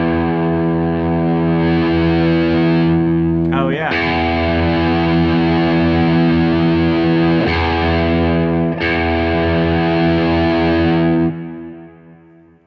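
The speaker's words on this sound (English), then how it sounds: "it's the smoothest increase in distortion I've ever heard" Electric guitar played through an amp with a smooth gain stage, sustained distorted chords ringing loud and steady for about eleven seconds with two re-struck attacks, a brief spoken interjection over it before fading out.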